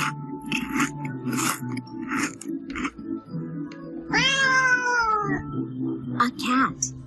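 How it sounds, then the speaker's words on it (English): A cat meows in a drawn-out, rising-then-falling call in the middle, with speech-like voices and background sound around it. "A cat."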